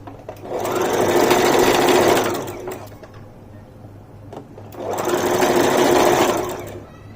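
Sewing machine stitching the side seams of a pant-cut palazzo trouser, running in two long steady bursts separated by a short pause, close and loud.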